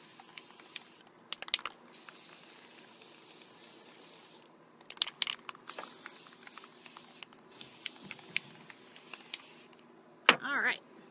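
Orange spray paint hisses from an aerosol can onto a Bundt pan in several short and long bursts with pauses between them, close and fairly quiet.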